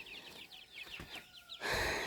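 Cochin chickens with chicks and a rooster, producing a brief run of soft, repeated clucks and peeping calls, fairly faint and close, without talk.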